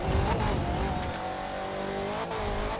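A Land Rover engine in The Crew 2 churns steadily while driving slowly through mud on a rally raid course, a continuous droning hum with slight pitch shifts throughout.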